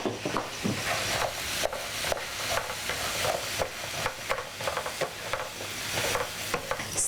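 Tempeh being stirred with spice paste and kaffir lime leaf in a frying pan, repeated scraping strokes of a spatula over a continuous hiss of sizzling oil, close and alone.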